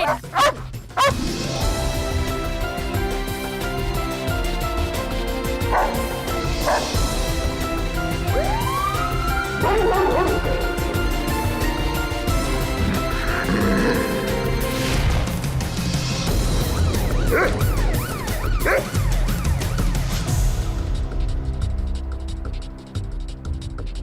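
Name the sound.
police dog barking during a raid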